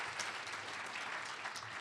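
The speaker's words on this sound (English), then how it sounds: "Give her a big round of applause, please." An audience at a 2016 housing policy forum applauds in a dense, continuous burst of clapping that fills the room. It is brief and moderately loud, with no voices over it.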